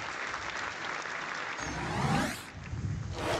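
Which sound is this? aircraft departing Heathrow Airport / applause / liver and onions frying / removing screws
applause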